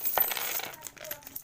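Peso coins drop into a universal coin slot in a quick burst of close metallic clinks and rattles that fade over a second and a half, with no talking.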